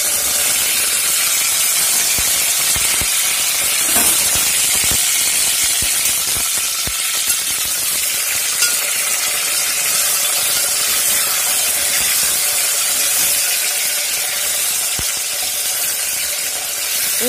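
Mustard seeds, fenugreek seeds, green chillies and tomatoes sizzle and crackle in a hot pan, a loud continuous frying hiss with scattered pops and occasional stirring clicks throughout.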